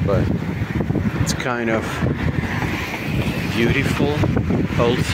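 Strong wind buffets the microphone on a cold morning outdoors, a constant rumbling gust noise under someone talking throughout.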